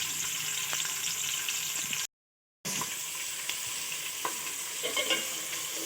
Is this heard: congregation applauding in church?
no